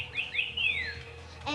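A toy bird machine gives out a few bright, sweeping electronic chirps, rising and falling whistles close by, over a low steady hum with no talking.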